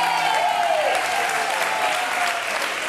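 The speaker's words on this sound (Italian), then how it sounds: "goditelo tutto sto applauso" A live studio audience applauds an Italian television interview guest, a dense, steady wash of many hands clapping loudly and close throughout.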